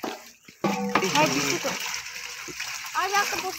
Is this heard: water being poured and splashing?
yes